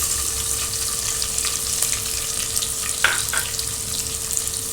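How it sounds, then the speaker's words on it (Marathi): Onion dropped into hot oil with bloomed cumin, sizzling and crackling steadily throughout, with a brief spatter burst partway and faint tapping of a spoon, no voices. "आता जिरा फुलला आहे आपलं कांदा घालवणार आहे"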